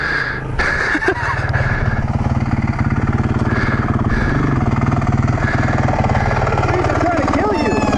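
A Yamaha TTR230 dirt bike runs along a trail with a close, steady engine chugging throughout. Wind rushes over it and a rider's voice comes through briefly.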